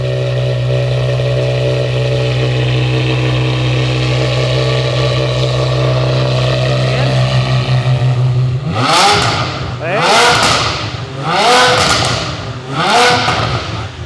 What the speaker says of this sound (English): first impressions of hearing the 575 with the full exhaust